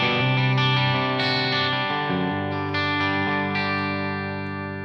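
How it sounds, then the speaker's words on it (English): Telecaster electric guitar played through a Remerom ODS1 overdrive pedal on the bridge pickup, with light tremolo and reverb, ringing out a few sustained, slightly gritty chords and notes that slowly fade. "This is just the basic sound of the guitar with the Remerom ODS1 and a little bit of tremolo"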